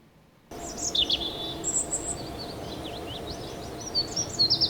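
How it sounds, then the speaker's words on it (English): Birds chirp and tweet over a steady ambient bed at the Space Center in the Kerbal Space Program video game, with short high calls scattered throughout and a brief silence at the start. "And with all the birds."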